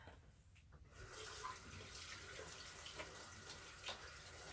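Warm tap water gushing from a faucet into a sink while hands are washed, starting after a brief pause and running steadily with small splashy shifts, fairly quiet and close.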